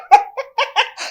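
A dog gives a quick run of four or five close, loud yaps and whimpering barks, alone with no talk.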